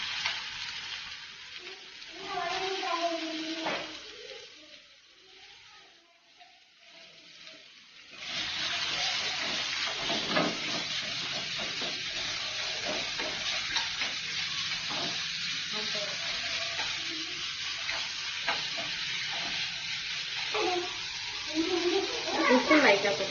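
Ginger garlic paste and onions sauté in oil in a pan: a steady, close, bright sizzle with scattered stirring scrapes, quieter and patchy for the first eight seconds, then loud and continuous.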